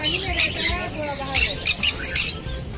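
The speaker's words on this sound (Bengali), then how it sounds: "আর এগুলো ব্লু ইয়েলো সাইড কোনুর আছে।" Blue yellow side conure parrots squawk at an exotic bird market in Dakshineswar, Kolkata, giving several sharp, loud, shrill calls in quick bursts while someone talks nearby.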